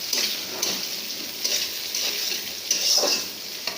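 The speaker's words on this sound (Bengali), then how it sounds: "পেঁয়াজ মরিচটা ভাজা হয়ে গেছে" Onions and green chilies sizzle in hot oil while a utensil stirs and scrapes the pan in short, repeated strokes, close and continuous with no talking.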